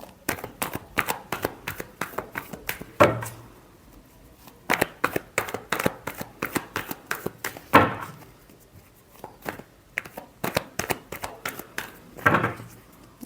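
Tarot cards being shuffled by hand in repeated bursts of rapid riffling and flicking, with sharper slaps as the deck is squared, close and fairly loud, with no talking.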